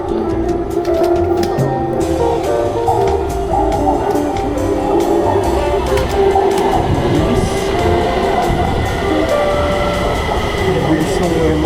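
Loud, steady rumble of a light rail train ride in Taiwan, with continuous wheel and track noise, clacking and faint squeals throughout, and voices faintly underneath.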